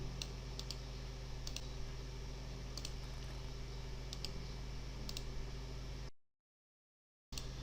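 Computer mouse clicks and keyboard taps during a copy-paste task, a sparse run of faint, evenly spaced clicks over steady background hiss, with no talking, ending in a short silent gap.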